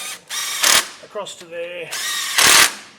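A power tool tightens bolts while fitting a part-time 4WD kit to a Toyota 80/100 Series, sounding two loud, close whirring bursts with a voice talking between them.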